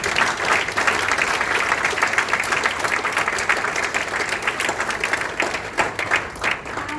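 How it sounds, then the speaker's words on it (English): An audience at an entrepreneurship workshop claps for a presenting mentorship group, a continuous even round of applause from a roomful of people, moderately loud and alone. "Why don't we give them another round of applause?"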